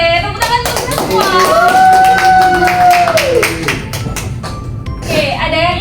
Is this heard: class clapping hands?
yes